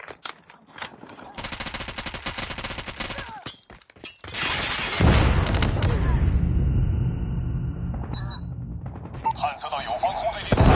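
Machine gun fire in the mobile shooter Call of Duty Mobile, loud rapid bursts with sharp crackling gunshots and heavier blasts, under intermittent in-game voice callouts.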